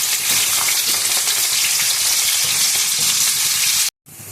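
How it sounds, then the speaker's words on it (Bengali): Whole cumin seeds, three green chilies and a large onion fry in hot oil, giving a loud, steady, close sizzle that cuts out briefly near the end. "তেল গরম হয়ে গেছে, এবার এর মধ্যে গোটা জিরে ফোড়ন দিয়ে দিলাম। 3টে কাঁচা লঙ্কা দিয়ে দিলাম, আর একটা বড় সাইজের পেঁয়াজও দিয়ে দিলাম।"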